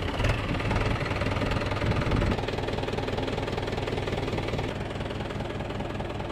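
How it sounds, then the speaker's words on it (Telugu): Diesel tractor engine turning over and settling into a steady idle, a low knocking mechanical rumble that is louder and rougher at first, then evens out into a constant throb. "ఇప్పుడైతే బండి స్టార్ట్ చేస్తున్నాయి కదా."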